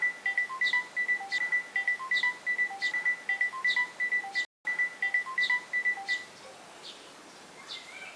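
A phone ringing with an incoming call, repeating short electronic trill bursts in a steady rhythm, loud and close, cutting out briefly midway before continuing and then stopping, leaving quiet background.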